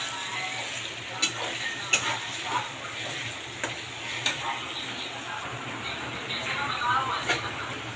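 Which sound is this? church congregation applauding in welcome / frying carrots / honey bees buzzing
frying carrots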